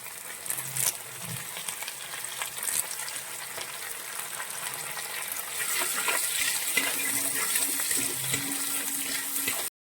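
Green chilies and curry leaves fry in oil in a pan for upma, giving a soft crackle and sizzle with faint scraping and clinks, steady throughout and a little fuller toward the end.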